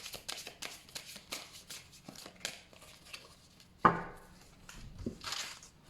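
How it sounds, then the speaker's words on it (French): A deck of cards shuffled by hand for a cross-spread reading: a rapid run of soft riffling flutters and taps, then a sharper snap of the cards squaring up, close and fairly quiet with no talk. "nous allons remélanger un petit peu ce jeu"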